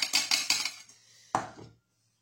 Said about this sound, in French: Je mets mes lentilles corail dans la casserole directement.